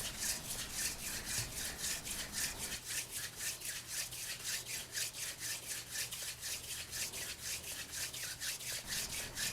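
A wooden hand drill spun between the palms against a wooden fireboard for a friction fire, made with the floating hand technique. It gives a steady, fast, rhythmic rasping and rubbing that picks up speed, close and continuous with no talking.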